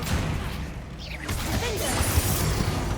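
Bombarda spell blast in Hogwarts Legacy: a dense, noisy crash with swooshing effects and a thud near the end, loud and close amid busy game combat noise.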